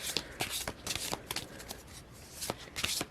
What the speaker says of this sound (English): Or you can just shuffle them all together.